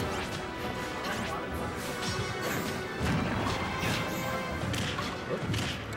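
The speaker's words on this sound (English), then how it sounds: "He ran past him and then went back and down smashed." Down smash attacks hit repeatedly in a Super Smash Flash tournament match, with busy crashing impacts and whooshes layered over dense game noise and crowd sound.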